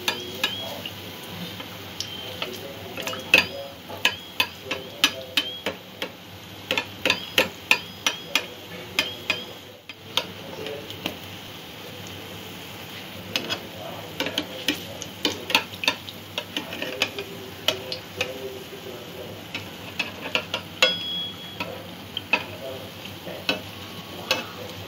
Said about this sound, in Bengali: হালকা ব্রাউন করে সমস্ত মালপোয়াগুলো আমি ভেজে নেব